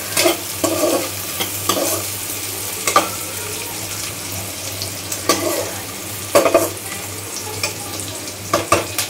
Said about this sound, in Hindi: हमें प्याज को हल्का सा ही 5 मिनट ही सौते करेंगे।